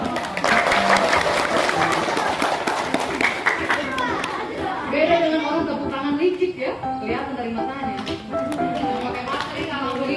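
A group of students and staff at a junior high school visit by doctors and nurses clap their hands together briefly, then the clapping gives way to voices and chatter.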